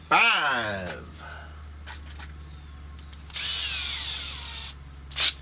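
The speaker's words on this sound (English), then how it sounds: "We're just gonna drill through the carbon straight into the aluminum." A power drill with a 2.5 bit boring dry through carbon fiber into aluminum on an RC crawler part, a rising whine at spin-up followed by a grinding cut and short bursts, with faint talking in between.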